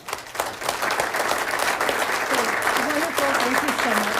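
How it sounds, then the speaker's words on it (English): Audience at a city council meeting applauds West Metro Fire firefighter teams, a steady, dense clapping that lasts throughout while a voice talks over it. "And I have to tell you one more fun fact before we do a round of applause."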